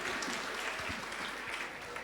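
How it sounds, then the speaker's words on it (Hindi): An audience at a Hindi religious discourse claps in dense, continuous applause that stays steady and fairly loud throughout. "एक बार ताली बजा दो स्वयं के लिए"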